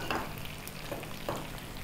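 Ginger pieces and green chillies fry in hot oil in a pan while curd rice is being made, giving a faint, steady sizzle with a few soft stirring scrapes.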